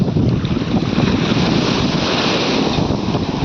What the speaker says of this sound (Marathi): लाट बघ कसली येते भयानक.